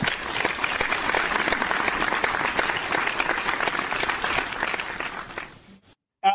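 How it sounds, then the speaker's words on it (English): A group claps in steady applause for several seconds, fading out toward the end, followed by a short pause and a brief faint sound. "let's just give him a round of applause"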